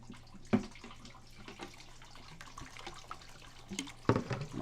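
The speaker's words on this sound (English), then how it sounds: "I'm gonna wash out this bucket real quick just to make sure I don't leave anything in it." Water splashes and pours while a plastic paydirt bucket is rinsed out at a sluicing setup. Two sharper sloshes stand out against a steady low hum, with trickling and small knocks in between.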